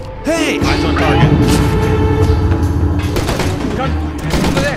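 Bursts of gunfire crack through the stealth video game Mark of the Ninja, with repeated shots and booms layered over a steady game soundscape and shouted lines from characters.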